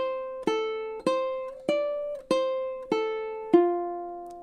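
A ukulele picks a simple beginner melody of six evenly spaced plucked notes, each ringing out cleanly and decaying before the next, close and quiet with no talking.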